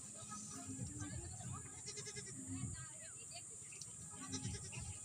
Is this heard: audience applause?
no